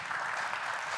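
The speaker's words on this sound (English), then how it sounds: "Clap hands." A room full of people clapping hands together, a dense, steady wash of applause with no voices over it.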